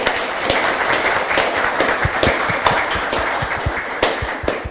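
Applause closing a live talk show about the creative economy: dense, continuous clapping from a group, fairly loud and even throughout nearly five seconds, with distinct individual claps poking through the wash.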